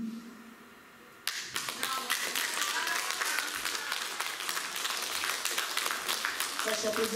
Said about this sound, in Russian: Ваши аплодисменты Зоя Александровна Байдалова.